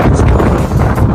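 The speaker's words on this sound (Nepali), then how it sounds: "चिसो हावा चाहिँ यस्तो चल्ने" A brief, loud gust of cold night wind blows near the sea, roaring against the microphone with no voices.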